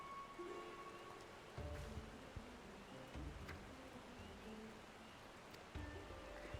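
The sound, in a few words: pouring rain in video game Final Fantasy XIV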